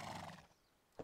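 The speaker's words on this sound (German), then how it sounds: "Hübsches Pferd." Horse heard briefly: a short burst of neigh-like vocal sound at the start fading out, then a quick soft thud near the end, faint and close-miked in a game-like setting.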